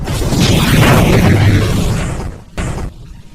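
A loud, rumbling fuel explosion roars and slowly fades, followed by a short sharp burst of noise near the end.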